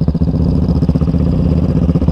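Yamaha Raptor 700 ATV with an Empire aftermarket exhaust, running close by with a loud, steady, throaty pulsing engine note and a lumpy rhythmic idle, with no voices over it.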